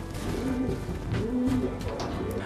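Racing pigeons coo softly in a loft, a few low, rounded coos rising and falling over steady background rumble, no talking.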